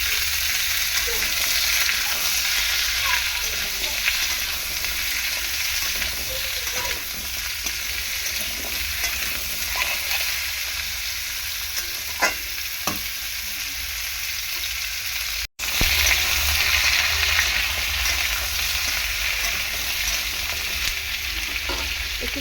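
Oil frying steadily in a pan at a home stove while vegetables and half a green papaya are cooked for a fish curry, a continuous close sizzle with occasional stirring scrapes, briefly cut off midway.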